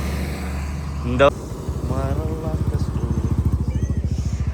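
A truck diesel engine turns over briefly and catches, then settles into a loud, close, rhythmic idle that throbs steadily, with a person talking over it.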